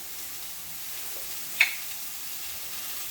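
Mushrooms frying in a pan for a mead and mushroom spaghetti, a steady soft sizzle running throughout with one brief sharper crackle near the middle.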